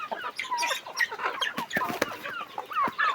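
Thai fighting rooster chickens cluck and squawk close by in a busy overlapping stream, with sharp bursts and a few brief clattering noises.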